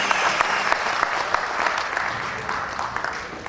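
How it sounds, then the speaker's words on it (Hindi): Audience giving sustained, dense applause to welcome a guest at a ceremony, a continuous wash of many hands clapping with a voice faintly audible underneath. "तालियों की गूंज अगर लगातार चलती रहे, अगला सूल साहब श्रीमान देवेंद्र दीक्षित सूल, जोरदार तालियां साहब"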